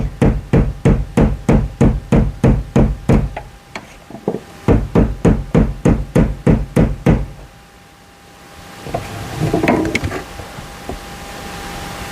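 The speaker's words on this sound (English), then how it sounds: "Let's get a screwdriver, a little bit of a tappy tappy." Rapid metallic tapping with a screwdriver to knock loose a stubborn part on a Mazda RX8 during a Hellcat swap, two quick bursts of evenly spaced knocks, close and loud, followed by a softer scraping shuffle.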